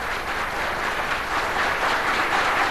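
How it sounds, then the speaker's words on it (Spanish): Audience in a hall applauding Raúl Alfonsín at an event in Pilar, a dense, steady wash of clapping sustained throughout with no speech. "El aplauso de la sala para el doctor Raúl Alfonsín."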